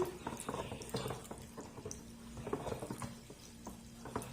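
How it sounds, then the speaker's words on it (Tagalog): A spoon stirring a milky buko ice candy mixture with evaporated milk in a container: faint, quick clinks and scrapes in an irregular rhythm, close but quiet, with soft sloshing of liquid. "Hahaluin lang ng mabuti"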